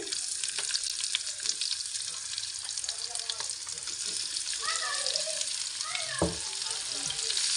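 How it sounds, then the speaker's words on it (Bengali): Small shrimp fry in hot oil on a griddle over a stove, giving a constant bright sizzle with scattered pops and occasional stirring scrapes close by. "চোলায় একটি তাওয়া বসিয়ে তেল দিয়ে গরম করে নিয়েছি এখন চিংড়ি মাছ দিয়ে দিচ্ছি"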